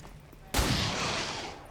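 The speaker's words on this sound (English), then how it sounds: "So we gotta fire the pistol at him." A single sharp pistol shot in XCOM 2, a sudden loud crack that cuts in after a quiet moment and trails off in a sustained noisy echo.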